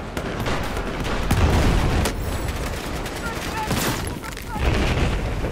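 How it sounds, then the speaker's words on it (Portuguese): Battlefield 4 gunfire: repeated close shots and bursts crack over a continuous rumbling battle backdrop, with several sharp loud reports spread through the stretch. Players talk over the shooting. "Olha o viado atirando"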